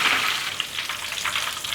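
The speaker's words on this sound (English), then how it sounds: "Okay, that was just doing my second batch. Okay, while that was frying" Chicken pieces for Cantonese sweet and sour chicken deep-fry as a second batch in hot oil, making a steady, close sizzling hiss with no talk over it.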